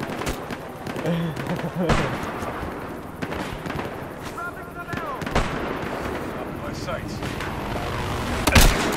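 Scattered gunshots and bursts of gunfire in Battlefield: Hardline multiplayer on PS4 crack through a busy, noisy mix, with people talking throughout and a louder blast near the end.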